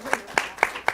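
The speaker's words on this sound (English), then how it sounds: "A round of applause for Silvia and her team" At a symposium panel on Latino representation in news media, four sharp, close hand claps land at a steady, even rhythm within one second, with no other sound between them.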